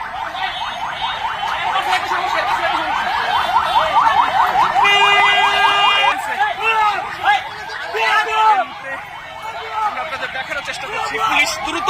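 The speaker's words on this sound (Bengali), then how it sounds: "আসলে সেখান থেকে অ্যাম্বুলেন্সটি সরিয়ে নিয়ে যাচ্ছেন" An ambulance siren wails in sweeping, rising and falling tones as the vehicle is moved out through a cheering crowd in Bangladesh. Loud talk and crowd babble run throughout.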